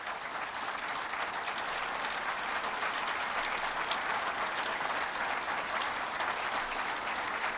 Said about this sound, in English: let's give them a round of applause for their good work